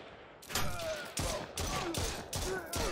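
Assault rifle gunfire in the video game Postworld: five loud, sharp bursts spaced roughly evenly over three seconds, each with a ringing tail, over low background noise.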